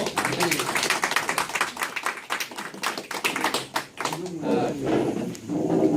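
Audience applause for small-group leaders standing at a lecture seminar, a dense patter of clapping throughout that fades slightly near the end, with faint voices mixed in.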